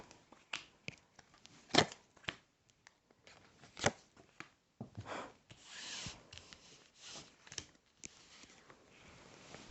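Tarot cards are shuffled and handled up close, with soft rustling, rubbing and occasional sharp snaps coming in irregular bursts, with no voices.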